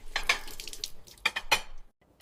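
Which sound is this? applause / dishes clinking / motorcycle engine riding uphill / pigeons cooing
dishes clinking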